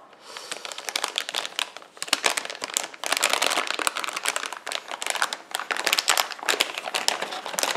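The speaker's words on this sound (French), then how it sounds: "tout ce qui est plastoc, déballage, écoutez bien" Plastic packaging from an Icy Dock PCIe storage card is unwrapped close up, giving a dense, continuous crinkling and rustling that runs throughout with brief sharper crackles.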